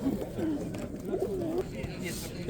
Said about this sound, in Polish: Parzyste gołębie.